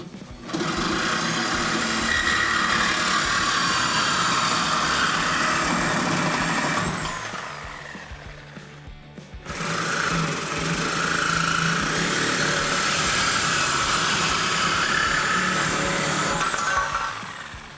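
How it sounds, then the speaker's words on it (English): A Sawzall reciprocating saw cuts through the exhaust pipe of a 2016-2023 Camaro, running in two long loud buzzing bursts separated by a brief pause, close and continuous, with no talk. "We're gonna use a Sawzall and we can make our cuts."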